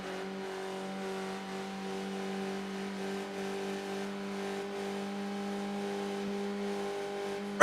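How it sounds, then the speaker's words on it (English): Race car engines lapping the Bathurst circuit in a racing video game hold a steady, sustained high drone at an even pitch throughout, fairly quiet and with no talk over it. "Really stressing those engines to the max."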